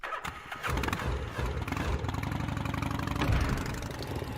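A motorcycle engine in the Gabriel Knight 3 PC game cranks with a few sputters, catches, then settles into a steady, close, rumbling idle.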